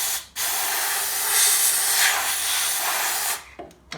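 Waxoyl rust protection sprays into tubes welded inside a car bulkhead, a close, steady, loud aerosol hiss lasting about three seconds before cutting off.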